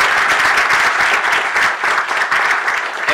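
At an awards luncheon, the crowd gives the sponsors a round of applause, a loud, thick wash of clapping that holds steady throughout.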